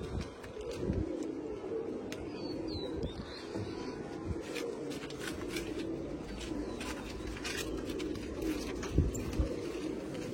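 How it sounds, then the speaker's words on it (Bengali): Andhra pigeons coo softly in a large loft, a steady low murmur with occasional wing flutters and chirps, heard alone without talk. "খাপা পায়রাকে এখন জল দেওয়া হচ্ছে।"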